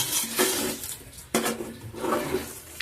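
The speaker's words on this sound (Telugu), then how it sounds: "ఆ రైస్ని వేసుకొని ఇప్పుడు ఇవన్నీ కలిసేటట్టు బాగా మనం కలుపుకోవాలి" A spoon scrapes and clatters against a cooking pot while rice is stirred together with masala vegetables for veg biryani, in a few sharp metallic strokes with soft mixing in between.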